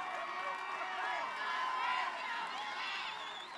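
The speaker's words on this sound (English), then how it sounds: "This crowd getting loud for their defense here for Campolindo." A home high school football crowd at a Campolindo versus Rancho Cotate game roars and cheers for its defense on third down, a sustained wash of noise that swells mid-clip, with a voice talking over it.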